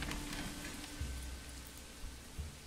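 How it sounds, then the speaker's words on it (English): Rain falls in the medieval city-building video game Manor Lords, a faint steady patter with a couple of soft low thumps underneath. "It's raining. Look at that. Even the roof looks wet."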